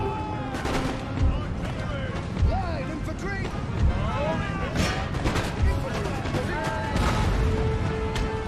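Cannons and musket volleys firing during a siege battle in Empire: Total War, repeated booms and crackling shots scattered across a busy battlefield din, with someone talking over it.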